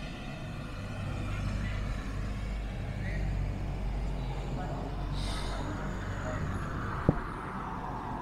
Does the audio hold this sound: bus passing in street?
yes